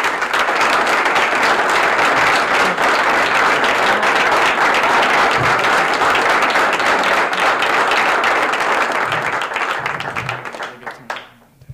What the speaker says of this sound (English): Please, ladies and gentlemen, a nice round of applause for Mr. Matt Graham.